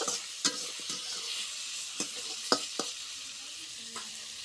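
Masala with tomato frying in a pan for an Odia potato-and-eggplant curry: a steady soft sizzle, broken by several sharp scraping clicks as a spoon stirs and taps the pan, close and fairly quiet.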